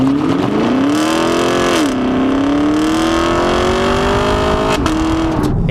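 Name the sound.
2019 Camaro 2SS automatic accelerating off the line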